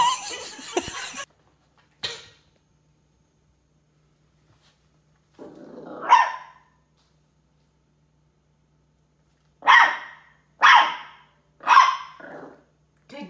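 A dog barks in several sharp bursts with some growling, close to the mic, separated by pauses of quiet; a voice is heard briefly near the start.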